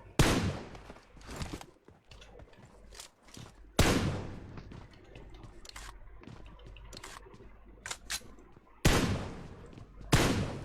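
Gunfire in the PUBG Mobile video game comes as several loud bursts of rapid shots, separated by quieter stretches of game background.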